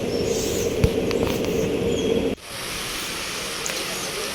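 A train arrives at Kanyakumari in heavy rain, rumbling steadily along the tracks in a continuous heavy roar with a faint hiss, dropping abruptly partway through before settling into quieter rumbling.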